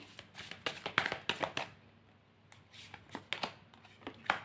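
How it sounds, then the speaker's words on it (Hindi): Tarot cards being shuffled by hand up close, a quick series of soft riffling flutters and taps in short bursts with a brief pause in the middle, fairly quiet. "देखो कार्ड कितने कितने शफल हो रहे हैं"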